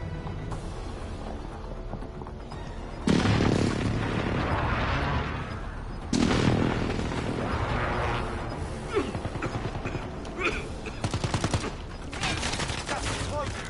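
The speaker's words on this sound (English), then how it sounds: "Enemy precision airstrike." Precision airstrike explosions in a battle royale video game: two heavy, close blasts strike a few seconds apart, each followed by a sustained roar of rumbling fire and debris, with no quiet gaps between.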